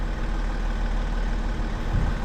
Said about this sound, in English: it starts putting the suspension compressor on and just puts itself into position there